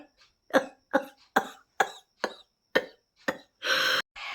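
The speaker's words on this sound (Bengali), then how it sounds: "হাসতে হাসতে পেয়ে গেছে কাশি" A coughing fit after laughing: about eight sharp, evenly spaced coughs close to the microphone, ending in a longer, harsher rasp and one more short cough.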